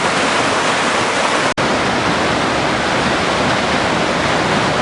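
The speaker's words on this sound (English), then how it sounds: "the river is completely out of its banks. Flowing through the shopping center" A flooded river has burst its banks along West Riverside Drive, producing a loud, steady roar of rushing water with a very brief dropout partway through.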